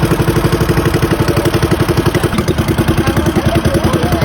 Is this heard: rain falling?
no